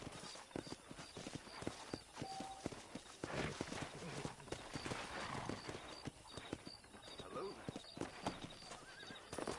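A horse in Red Dead Redemption on PS5 clip-clops along at a steady gait and gives a whinny, with in-game characters talking over the hoofbeats and ambient game sounds.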